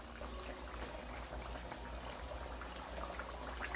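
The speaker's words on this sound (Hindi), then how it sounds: "अब हम गरम तेल में पीसेस डाल देंगे" Pieces of chicken for spicy fried chicken frying in hot oil: a steady, dense sizzle and bubbling that runs continuously at an even level, with no talk.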